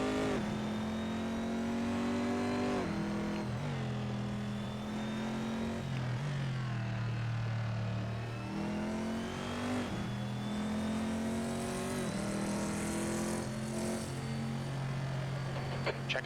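A V8 race car roars through a lap in a racing video game, loud and close, with the engine climbing through the gears, dropping on braking and downshifts, then surging again, held steady over a long stretch without talking.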